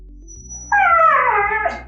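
Dog indoors in a home, giving a drawn-out high whine that rises into a howling, whimpering yelp, loud and close, running alone for nearly two seconds over a low background hum.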